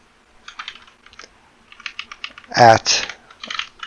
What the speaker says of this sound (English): So what we can do from here is we can just type in our test user